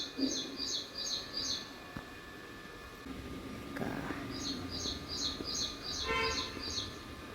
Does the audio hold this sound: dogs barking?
no